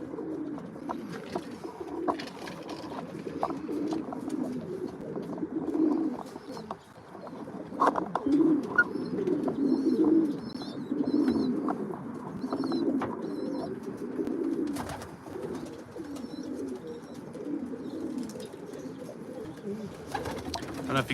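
Racing pigeons in a loft squabble amid ongoing throaty cooing. Sharper bursts, likely flapping wings and scuffles, break through at intervals over a cluttered, close-up background of birds.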